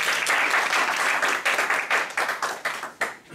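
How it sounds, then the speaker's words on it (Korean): An audience in a lecture hall bursts into applause, a dense burst of many clapping hands that thins out into scattered individual claps before ending. "동의하시면 박수 한번 쳐보시죠"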